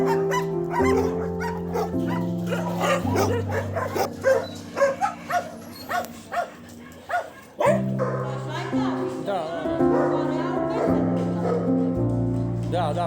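A Romanian street dog barks in short, sharp bursts, some close and loud, over background music with people talking.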